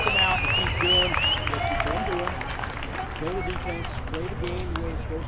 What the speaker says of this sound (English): How about another round of applause for Lone Star Baseball tonight